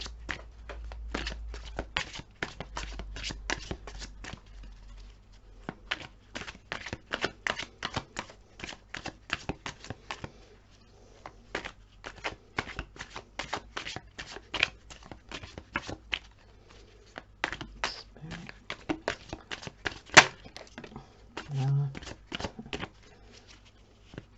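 Tarot cards are shuffled by hand in repeated crisp riffling bursts and soft slaps, close and fairly quiet, continuing steadily with brief gaps.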